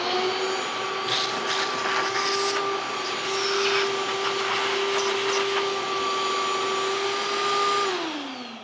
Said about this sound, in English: Give a quick vacuum to the top of the chute.